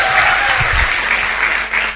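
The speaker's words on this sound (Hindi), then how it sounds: "तो जोरदार तालियां दोस्तों" Loud, close audience applause at a business success-stories event, a thick continuous patter of hands with a few heavier low thumps early on and a slight dip near the end.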